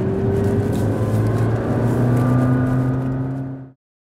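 McLaren 12C Spyder engine revving hard and climbing through gears, a loud, close, droning note with pitch sweeps at each shift, cutting off abruptly near the end.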